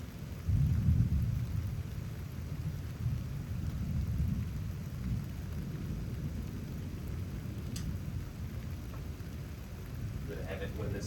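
Low, continuous rumbling thunder from an approaching storm in Houston, swelling early and rolling on under a steady wash of rain, with a few faint clicks near the end.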